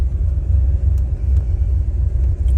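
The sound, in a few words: 1971 Chevrolet Corvette 454 V8 engine rumbling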